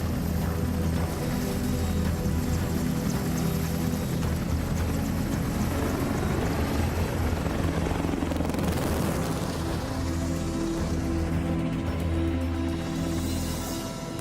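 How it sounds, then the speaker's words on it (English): An EH-101 military helicopter in flight gives a loud, steady rotor and engine drone that fills the whole stretch without a break. "The father of the helicopter, Leonardo da Vinci, would love to fly this helicopter."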